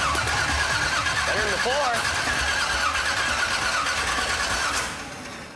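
Hearse's newly installed motor cranks and tries to fire, a rough, sputtering mechanical engine rumble running steadily under loud nearby talk before easing off at the end.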